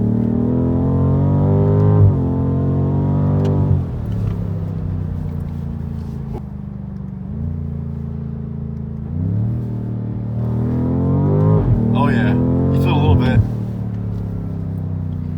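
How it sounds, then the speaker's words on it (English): A 2019 BMW M5 Competition in two-wheel drive accelerates hard with its tires spinning, the engine rising and dropping in pitch in loud, steady surges with a brief screech near the end. "So a barely broken in car is already spinning the tires, not even making full power."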